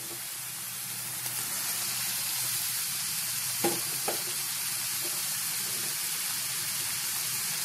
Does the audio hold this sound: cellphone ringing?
no